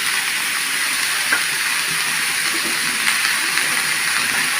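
Chichinga, also called snake gourd, frying in a pan with green chillies, giving a steady, close hiss of sizzling oil that runs evenly throughout with a few faint clicks.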